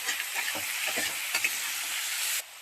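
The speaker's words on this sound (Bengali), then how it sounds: "আদা রসুনের পেস্টটাকে দিয়ে এবার ভালো করে এটা ভেজে নিতে হবে।" Ginger-garlic paste for ghugni fries in a hot pan with a loud, continuous sizzle, and a spatula scrapes and taps through it in quick strokes until the sizzle suddenly drops near the end.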